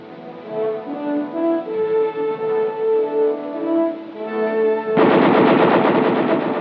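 NATO allied weapons are test-fired at the Frankford testing center in 1966 US Army film footage. Sustained tones give way at about five seconds to a sudden, loud, dense burst of rapid automatic gunfire that runs to the end.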